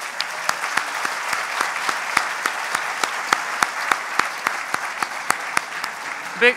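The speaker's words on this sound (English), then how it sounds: "Let's have a round of applause for our timers." Steady applause from a debate audience thanking the volunteer timers at the 2015 Courtenay–Alberni federal candidates' debate, a dense even patter of many clapping hands with sharp individual claps standing out, sustained throughout at moderate loudness.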